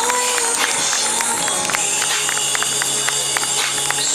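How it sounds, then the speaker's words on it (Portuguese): Guests at a surprise birthday party give sustained, lively applause, a dense crowd of hands clapping continuously and fairly loudly throughout. "E novamente eu peço uma merecida salva de palmas para a Dona Leste."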